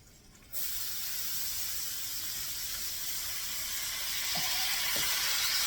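Hash browns hit a buttered diner griddle with a sudden burst into a loud, steady hiss and sizzle that holds and swells slightly, with a couple of faint scraping clicks near the end.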